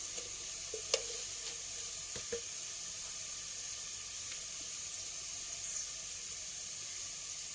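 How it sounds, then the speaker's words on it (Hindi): Whole cumin seeds sizzle in hot oil among golden onions. The hiss is steady and fairly soft, with several sharp pops and crackles near the start, and no one talks. "सबसे पहले मैं इसमें ज़ीरा डालती हूँ, साबुत ज़ीरा।"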